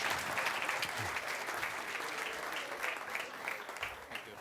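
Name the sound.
applause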